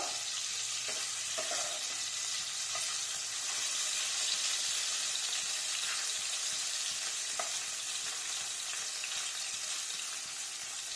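Paneer fries in a small amount of oil with a constant close hiss and sizzle, a few faint clinks of stirring, and no talk.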